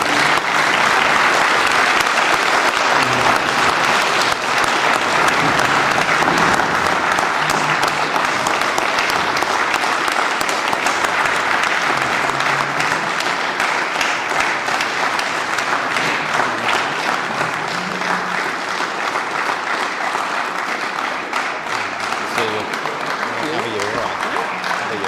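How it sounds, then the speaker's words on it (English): A crowd at regional volunteer awards gives sustained, loud applause that rolls on steadily for about twenty-five seconds, with voices faintly mixed into the clapping. "Let's give them a huge round of applause."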